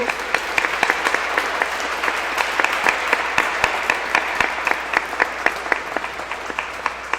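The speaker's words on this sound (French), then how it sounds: "j'aimerais remercier M. Jean-Luc Gagnon, le trompettiste, qu'on pourrait applaudir aussi" A church congregation at Easter Mass claps continuously, the applause full and even with individual claps standing out, filling a reverberant hall.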